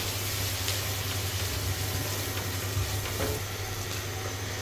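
Three large finely chopped onions fry in a pan toward browning for an egg curry, a steady close sizzle over a constant low hum, with faint stirring scrapes.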